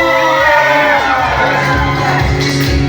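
A loud wedding crowd cheers, whoops and shouts together welcoming the newlyweds in a continuous roar, with clapping mixed into the dense noise.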